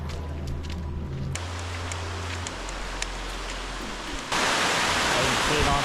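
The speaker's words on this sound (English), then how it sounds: "As you can see, nice waterfall," A waterfall pouring into a creek swimming area on a sunny long-weekend outing, a steady broadband rush that holds throughout and grows louder and brighter near the end, with a low rumble underneath early on.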